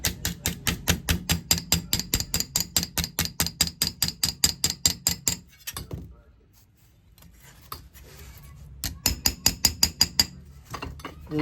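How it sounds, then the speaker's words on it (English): Stainless steel trim being tapped back into shape with a hammer, a fast, even run of close, sharp metallic blows, then a quiet pause with faint handling before a few more quick strikes. "A little more hammering."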